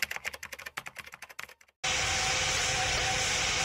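Boeing 777 airliner engine in the Roblox flight game PTFS, a loud steady roaring whine that cuts in abruptly after a burst of rapid keyboard typing and then holds constant.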